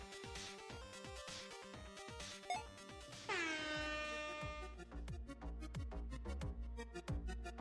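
An MLG air horn blares from a Pong-style game jam entry, a loud sustained harmonic blast entering partway through over busy game music and ticking effects, then fading as rhythmic clicks continue.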